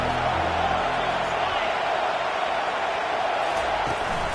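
A college football video game stadium crowd roars as a steady, loud wash of noise that fills the whole stretch without letting up, with no clear breaks or peaks.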